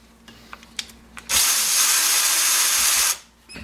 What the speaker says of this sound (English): So I'm going to just go and take these Phillips screws out,